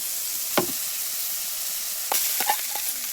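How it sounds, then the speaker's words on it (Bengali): Prawns coated in salt and turmeric sizzle in a pan with chopped onion for an ivy gourd and prawn dish, with a steady hiss broken by a few sharp crackling bursts as they are stirred. "ওই চিংড়িটাও দিয়ে ভালো করে এবার ভেজে নেব।"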